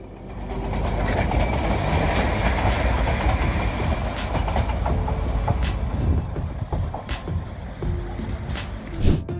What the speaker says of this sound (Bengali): আর তখনই বেশ কয়েকটা টয় ট্রেন এই বাতাসিয়া লুপ পরিক্রমা করে যায়